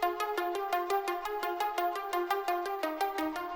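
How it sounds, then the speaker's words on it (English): A trance-style synth arpeggio layer from the Spire plugin repeats quick, evenly spaced plucky notes in a bright, steady pattern, played solo and up close. "So kind of sounds like this trance plug, and it's from this plugin called Spire."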